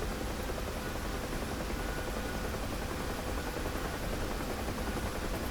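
A Huey helicopter in the DCS flight simulator game, its engine and rotor making a steady, dense, close roar that fills the whole stretch without pause or speech.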